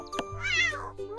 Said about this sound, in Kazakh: Бұл мысық.